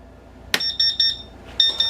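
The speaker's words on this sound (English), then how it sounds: "give an alarm until the water is circulating the way it needs to and there's not any air left in the line" A CW-5000 water chiller on a laser engraver cutter sounds its startup alarm: a sharp click, then a series of short, high electronic beeps in quick pulses, close and alone.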